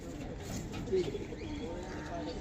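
Pigeons coo close by, soft and low, just after a male and a female are let out together, with a faint murmur of room noise underneath.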